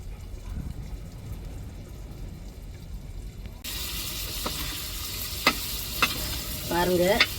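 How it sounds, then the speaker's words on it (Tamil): Squid stirred and fried in oil in a home kitchen: quiet at first, then a loud, sustained sizzle bursts in, punctuated by sharp scraping clicks of a utensil turning the pieces in the pan. "இப்படி கொஞ்சம் கொஞ்சம் கணவாயை அள்ளி நல்லா எண்ணெயில் இப்படி பிரட்டி விடணும்"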